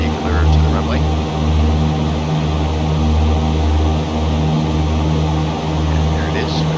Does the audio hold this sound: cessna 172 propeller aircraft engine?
yes